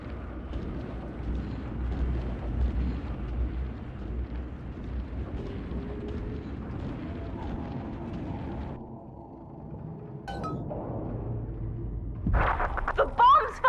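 Bombs explode in the Bioshock 2 game as an undersea structure falls, a long deep rumbling roar fading into hollow creaks and sharp crashes near the end.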